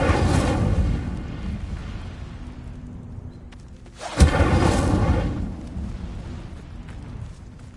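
Incendio fire spell cast in Hogwarts Legacy, a loud roaring whoosh that fades over a few seconds, followed by a sharp burst and a second fiery rush that tails off slowly.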